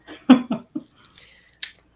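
Several quick snips of scissors, close and crisp, in a short uneven burst with brief pauses between cuts; no talking over them.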